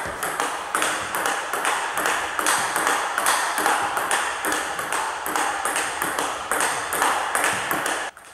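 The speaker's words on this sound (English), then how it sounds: "Now here's the sound of the poly ball." A Stiga ITTF-approved plastic poly table tennis ball bounces in a quick, regular series of crisp ping and tap hits, close and steady until an abrupt stop near the end.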